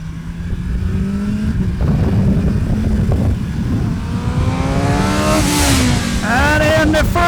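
A 2025 BMW S1000R naked superbike revs hard and accelerates, its engine note climbing through rising sweeps and a gear change, loud and close over a continuous roar.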